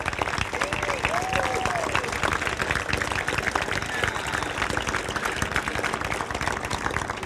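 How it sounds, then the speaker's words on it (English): A crowd gives a standing ovation at the unveiling of a Jerry Lucas statue outside Ohio State's Schottenstein Center, with sustained, loud, crackling applause and scattered voices and cheers mixed through it. "he deserves a standing ovation and applause from all of us"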